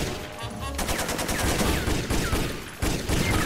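SMG fire in the video game Jet Li Rise to Honor: rapid bursts of loud automatic gunshots with sharp crackling impacts, running almost continuously through a short stretch.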